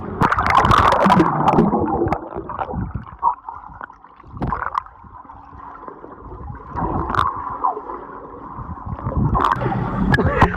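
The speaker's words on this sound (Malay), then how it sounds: "Biar air tu terkobor kat mulut." A child gurgling and bubbling water in a swimming pool, with close, irregular burbling bursts and soft splashes that rise and fall, no speech.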